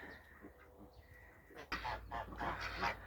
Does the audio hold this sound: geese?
yes